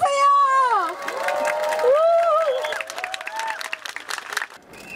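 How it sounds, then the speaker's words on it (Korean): Audience applause and cheering from a crowd at a Wednesday rally, loud and sustained across the clip, with voices calling out and tonal shouts mixed into the clapping. "여러분 큰 박수"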